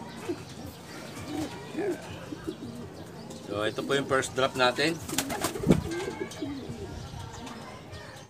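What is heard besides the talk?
racing pigeons arriving at loft cooing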